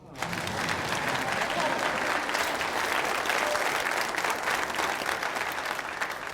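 A crowd in a French-language film applauds, with loud, dense clapping that rises quickly and holds steady for about six seconds.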